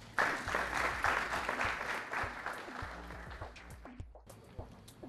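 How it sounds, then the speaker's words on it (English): A debate audience applauds as the candidates are welcomed, a dense wash of many hands clapping at moderate distance that holds steady for several seconds, then thins out and fades to scattered claps. "let's welcome our candidates with a round of applause"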